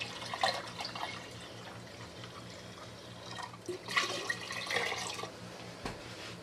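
Cold water pours and splashes into a Mr Beer home-brewing keg of wort, a close, uneven gush with a few louder surges.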